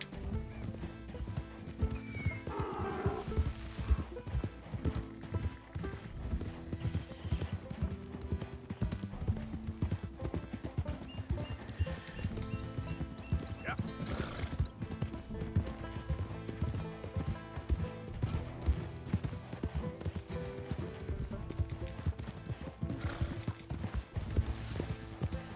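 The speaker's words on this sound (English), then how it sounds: "We're riding the mule." A mule's hooves clip-clop steadily as it is ridden in Red Dead Redemption 2, a continuous rhythmic trotting under game music and ambience.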